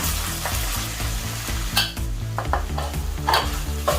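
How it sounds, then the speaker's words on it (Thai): Cooked rice stir-fried with oil in a pan for Thai fried rice with crispy fish, sizzling steadily while a utensil scrapes and tosses it in rhythmic strokes close by. "ถ้านำข้าวสวยค่ะใส่ลงไปผัดค่ะ"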